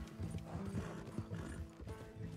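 Horse galloping in the Red Dead Redemption 2 game, a steady rhythmic drumming of hooves close up with a snort or whinny mixed in and game ambience beneath.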